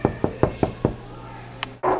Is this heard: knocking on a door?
yes